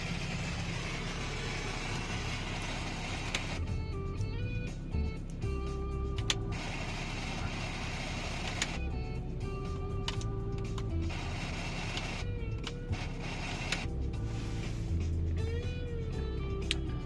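BMW car radio with a suspected antenna amplifier fault, giving a steady faint hiss with a low hum and scattered crackling clicks, heard alone without talk.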